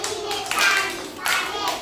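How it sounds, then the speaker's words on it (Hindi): Children clap their hands together in a steady rhythm during a counting rhyme, the claps close and dense, with voices faintly mixed in. "ताली पाड़िए"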